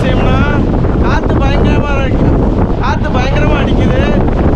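Fierce wind batters the microphone on a hilltop near the Karur–Dindigul district border, a loud, steady roar under someone talking through most of the stretch.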